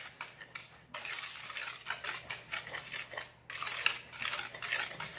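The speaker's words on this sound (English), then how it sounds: "Now we're going to mix this together." Chocolate cupcake batter of flour, baking soda and baking powder being stirred in a bowl, with repeated scraping and clinking of a utensil against the bowl in uneven strokes, close and moderately loud.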